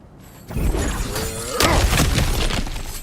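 Cracked ground in God of War Ragnarok gives way as it is smashed through, a loud shattering crash with a thudding rumble of falling debris, followed by continuing crumbling noise.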